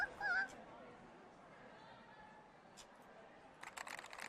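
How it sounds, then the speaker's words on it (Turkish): A cartoonish bird in TrollFace Quest 2 gives a brief honking call at the start, followed by quiet room tone and a patter of soft clicks near the end. "Kuş kuk kuk kuk yapıyor."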